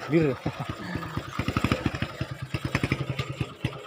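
A stock Tiger motorcycle engine fitted with a modified kleper exhaust runs nearby, making a rapid, uneven series of sharp popping pulses that quicken and steady. A voice is heard briefly at the start.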